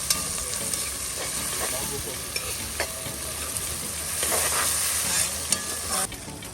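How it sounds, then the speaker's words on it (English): Seasoning sautés for a Jamaican salt mackerel rundown cooked outdoors by a river, with a loud continuous sizzle, scraping stirs and occasional sharp clinks of a spoon against the pot. "we are sauteing the seasoning then before putting the coconut milk"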